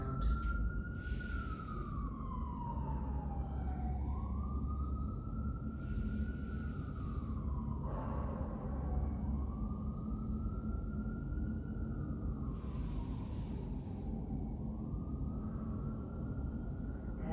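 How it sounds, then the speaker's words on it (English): A siren wails in long rising and falling sweeps, fairly distant, fading and returning over a steady low rumble, with no talking. "as that siren melts away, one more deep breath for me."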